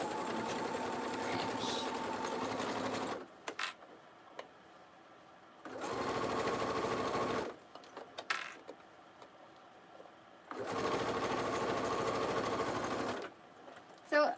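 Sewing machine basting two fabric pieces together for a fanny pack, three bursts of steady rapid stitching a few seconds each, separated by quiet pauses with small handling clicks.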